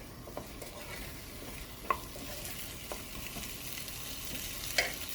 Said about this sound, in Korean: 그리고 좀 볶아주세요.